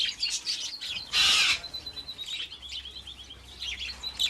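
Wild Australian budgies chirp in a bright, busy chatter through the whole stretch, with one louder burst of twittering close by partway through. The constant high calls are fairly soft overall, and nobody talks.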